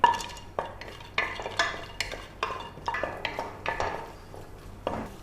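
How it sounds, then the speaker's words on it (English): Cashew nuts roasting in ghee in a pan, with a utensil stirring and scraping in a steady rhythm about twice a second over a soft frying sizzle, close and moderately loud, with no talking. "We'll first roast the cashew nuts in ghee and set it aside."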